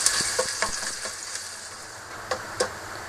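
Onions fry in hot oil for a beef moti pulao, a close crackling sizzle punctuated by several sharp stirring scrapes and spatula knocks against the pan, with no voices.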